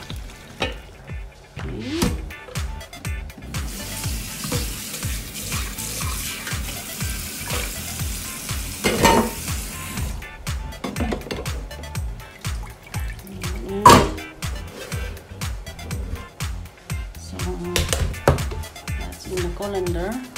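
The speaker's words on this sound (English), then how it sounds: "put it in a colander to drain it there." Cooked chicken pasta tipped into a colander to drain, with splashing, pouring water and hissing steam, heard beneath a person talking through most of the stretch.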